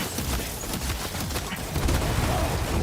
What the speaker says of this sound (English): Yo, these fireworks is really making me mad.